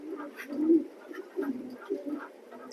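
Soft, throaty cooing from a pigeon in a pigeon loft, several low rolling coos repeating close by with short gaps between them.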